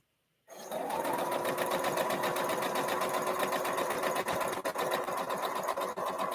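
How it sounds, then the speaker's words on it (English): A sewing machine stitching a quilt block runs steadily at high speed, a close, even, rapid mechanical whir and tick that starts abruptly after a moment of silence and continues unbroken to the end. "this is the sewing machine I have to use the most with Delaney"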